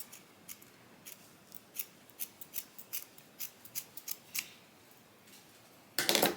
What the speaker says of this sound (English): Just short little snips.